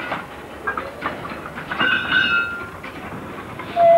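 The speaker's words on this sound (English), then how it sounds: "In the yard, they're stowing the wagons of the 448 Bristol Leeds fast freight." Wagons of the 448 Bristol–Leeds fast freight, a classic train of sealed wagons, clank and clatter while being stowed in a rail yard, with irregular metallic knocks and a steady rumble, loud and close.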